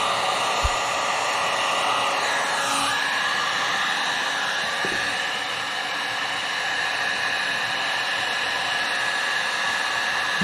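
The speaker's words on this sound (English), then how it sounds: "And the heat gun's always good to use because you can literally hold it on top of this" A heat gun blows a steady, close whooshing hiss while shrinking heat-shrink tubing on light bar wiring, continuous throughout with a faint whine and a couple of small knocks.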